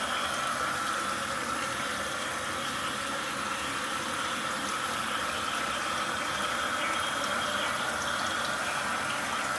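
Water runs steadily from a vessel sink faucet into the drain, giving a continuous even rushing flow at moderate level throughout, with no talking.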